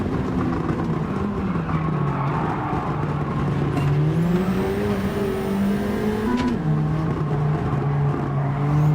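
Race car engine in Gran Turismo 7 howling through rising and falling revs, with pitch sweeps as gears change, up close and continuous without talk.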